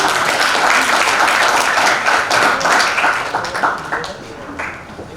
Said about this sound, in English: Okay, everyone, please give applause for Group 1.